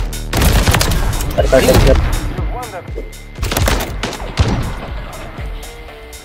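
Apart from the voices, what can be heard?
Intervention sniper rifle shots in a video game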